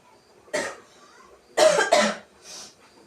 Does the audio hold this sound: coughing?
yes